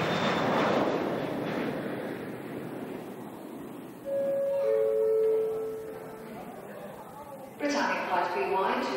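Airliner departing, a loud jet engine roar that fades over several seconds, with voices talking over it and a tonal whine partway through.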